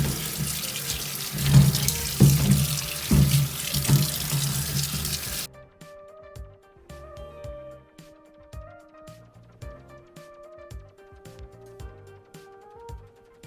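Peeled ginger is rinsed under a running kitchen tap, a close, steady splashing stream that stops after about five seconds and gives way to soft background music.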